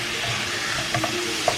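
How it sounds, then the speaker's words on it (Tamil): Tomatoes frying with onions in a pan for a canned tuna masala, giving a steady close sizzle with a couple of light stirring knocks near the end, no voices. "ஸோ இப்போ தக்காளி வந்து ஒரு 2-3 மினிட்ஸ் வதங்கட்டும்."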